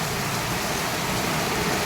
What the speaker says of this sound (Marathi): जो पाऊस आहे तो असाच चालू आहे कंटिन्यू पडतोय कंटिन्यू पडतोय